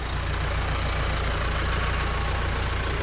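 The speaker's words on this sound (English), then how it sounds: "The engine is a diesel perking engine." A Landini 8880 tractor's diesel engine idles at close range, a steady, even low rumble with a faint knocking pulse running unbroken for a few seconds with no voices.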